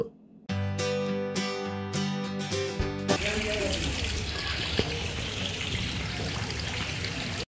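Steady rushing spring water flows continuously at Chashme Shahi Mughal garden in Srinagar after a brief burst of music at the start, a dense gushing sound that fills the rest of the clip.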